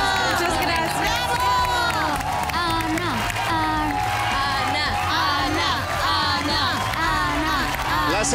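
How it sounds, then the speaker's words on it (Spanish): An audience at a televised results show bursts into steady applause mixed with cheering, whoops and shouting, filling the whole stretch at an even, loud level with a host's voice partly audible over it. "Y así despedimos con un fuerte aplauso a Anabel Otsli Domínguez."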